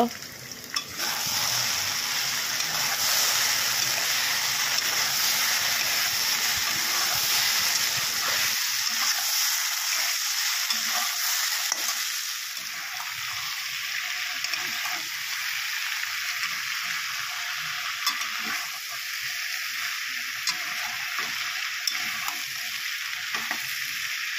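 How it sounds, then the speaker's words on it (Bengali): Okra and potatoes frying together in a pan give off a loud, steady sizzle that runs throughout, easing somewhat after the first several seconds as the crackle continues alone. "ভেন্ডি আলু একসাথে ভাজা করা হবে।"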